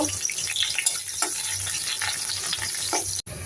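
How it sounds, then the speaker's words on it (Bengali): Onion and green chili frying in hot oil in a wok, a steady close sizzle with stirring scrapes throughout, with no talking. "এই যে কড়াইয়ের মধ্যে তেল দিলাম, তেল দিয়ে আমি এখন পেঁয়াজ মরিচটা ভেজে নিব"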